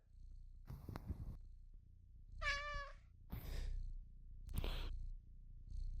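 A person's voice imitates a cat, giving a few soft purring rumbles and a clear, drawn-out meow in the middle, then more breathy purr-like sounds, close and quiet during a tabletop role-playing game session.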